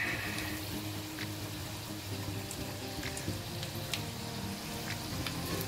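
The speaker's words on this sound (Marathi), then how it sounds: "आता फटाफट पुऱ्या तळून घेईल." Puris deep-frying in hot oil in a small kadhai make a steady, close sizzle throughout, with faint clinks and light crackles scattered over the bubbling hiss and no talk.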